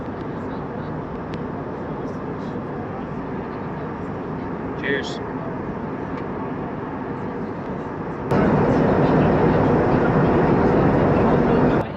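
Steady roar inside a Lufthansa airliner cabin on approach to Sylt, Germany, a constant engine and air rush that swells louder near the end, with brief speech.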